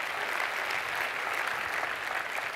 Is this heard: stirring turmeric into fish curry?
no